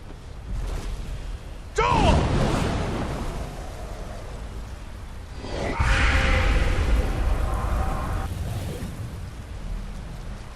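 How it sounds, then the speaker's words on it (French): A dragon shout in the Skyrim video game bursts out as a sudden roaring whoosh, followed by a second broad rumbling blast, heavy and booming over the game's ambience. "Tu m'obliges à faire ça, c'est le cri de dragon."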